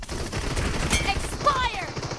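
Groza assault rifle gunfire in the mobile shooter BGMI during a team deathmatch, rapid bursts of automatic shots that sit among game effects and in-game voice callouts.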